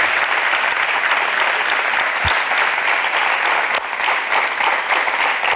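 Sustained, dense audience applause at a Tunisian television show taping, loud and steady throughout with a single low thump partway through and no talking over it.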